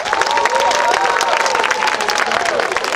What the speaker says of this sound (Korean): 박수로 응원해달라고 했는데 환호성까지 해주어서 대단히 고맙습니다